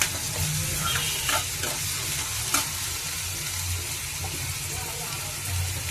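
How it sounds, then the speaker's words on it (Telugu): Onion masala fries in a pan for an egg and raw mango curry, giving a steady close sizzle with stirring scrapes and a few sharp clinks of the spoon against the pan. "ఉల్లిపాయ మసాలా వేస్తున్నాను."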